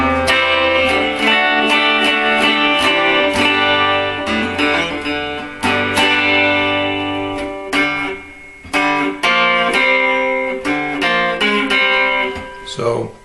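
A 1970 Gibson ES345 electric guitar on its neck pickup with tones wide open plays a run of strummed chords and single notes, loud and close, with brief gaps between phrases.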